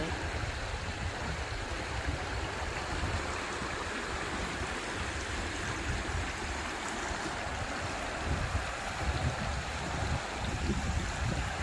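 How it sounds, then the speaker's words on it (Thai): Mountain stream water flowing steadily on a high plateau in Norway, a continuous broadband rush of running water heard close and alone with no talking. "ทานน้ำไหล"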